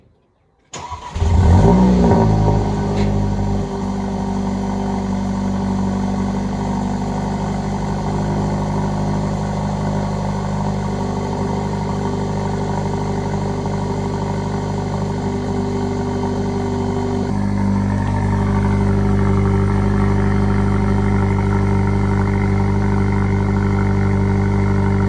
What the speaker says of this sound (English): quickly give you all a cold start for this